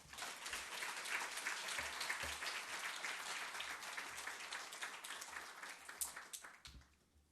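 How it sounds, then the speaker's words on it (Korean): Warm applause from a church congregation welcoming a pastor to the front during a Sunday service, a steady wash of many hands clapping for several seconds before fading out at the end. "우리 목사님 나오실 때 우리 사랑의 박수로 환영해 주시기를 바랍니다"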